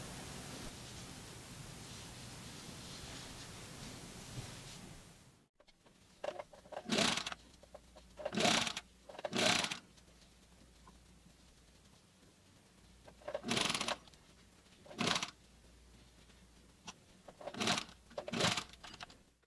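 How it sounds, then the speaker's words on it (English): A sewing machine stitches trim onto the sleeves of a machine-knitted cardigan, running in short separate bursts of steady whirring with quiet pauses between them, after a stretch of hissy background at the start. "So you just sew up the two ends together first and then sew the trim onto the sleeves."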